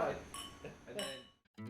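Wine glasses clink together in a toast, bright short chimes mixed in with nearby voices talking.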